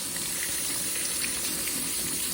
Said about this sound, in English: So I'm going to need to wash these guys.